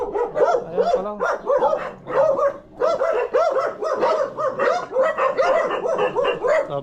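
Several dogs bark repeatedly and excitedly at a house in Mabini, Pangasinan, a dense overlapping chorus of loud barks and yips that continues almost without pause.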